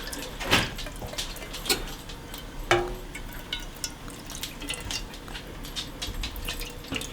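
Liquid pours and splashes into a pot while gravy is made for a Thanksgiving meal, a close watery trickle with a few sharper clinks and splashes and no talking.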